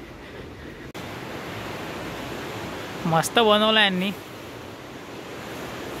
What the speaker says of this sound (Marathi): खालून नदी वाहत आहे